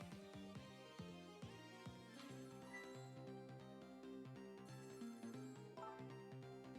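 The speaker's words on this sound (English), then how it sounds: "The phone is ringing." A telephone rings in the video game Ghost Trick, a repeated chiming tone layered over a busy, rhythmic game music bed, the whole thing soft and steady.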